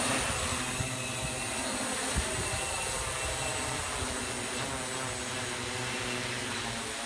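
A cargo delivery drone running an automatic program lifts off, its motors giving a steady, even whirring hum at moderate distance with no talk.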